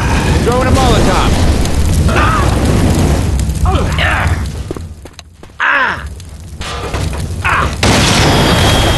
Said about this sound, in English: Throwing a Molotov!